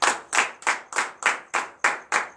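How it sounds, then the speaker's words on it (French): A congregation at a Saturday morning prayer service in Comè, Benin claps in acclamation, eight sharp, evenly spaced claps in unison, loud and close, with no talking over them. "Donne l'acclamation à Seigneur."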